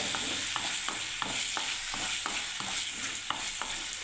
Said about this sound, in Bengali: এদিকে বন্ধুরা আমার দেখুন গ্রেভিটা এখনও হচ্ছে, মশলাটা এদিকে এখন তৈরি হচ্ছে